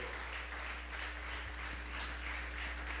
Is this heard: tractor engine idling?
no